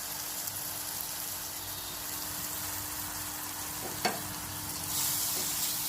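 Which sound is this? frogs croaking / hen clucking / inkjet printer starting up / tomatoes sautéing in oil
tomatoes sautéing in oil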